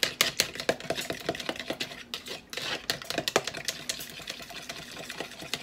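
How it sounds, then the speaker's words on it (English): Three eggs with sugar and vanilla are whisked briskly in a bowl for a cream cheese pecan walnut pie, giving a fast, steady run of close clicking and tapping strokes with one short pause. "I have 3 eggs here, and I'm going to stir these up real good."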